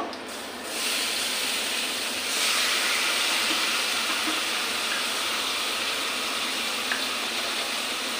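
Malaya fish, rubbed by hand with spices, slid into a hot wok to fry, giving a steady broadband sizzle that swells a couple of seconds in and holds loud and even to the end, with no talk.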